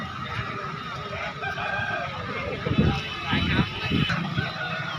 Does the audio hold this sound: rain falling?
no